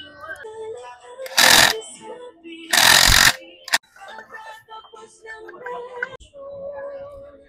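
A pneumatic impact tool drives fasteners on Toyota replacement parts, sounding as two loud, harsh bursts of about half a second each followed by a short snap, with someone talking between them.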